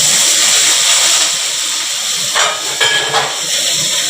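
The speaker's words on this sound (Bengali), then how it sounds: "এবার ভাজবো এই সবজিগুলো।" Vegetables sizzle in hot oil in a pan while a khichuri is being cooked: a steady close hiss, with a few sharp bursts of spatter near the end.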